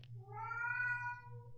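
A single drawn-out cat meow from The Crooked Man video game, rising then slowly falling with a plaintive, slightly wavering tone, heard alone over a low steady hum.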